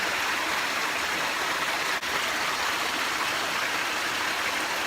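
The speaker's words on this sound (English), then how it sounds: "I think listening to the waterfall is actually more important." A waterfall pours into pools in a steady, loud, broadband rush of falling water, continuous and close, with no voices over it.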